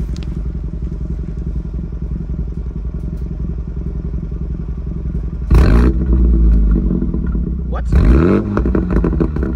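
A Mini JCW engine and exhaust rumble steadily from behind the car, then swell with two loud, crackling revs near the end, a brief spoken word heard over the engine.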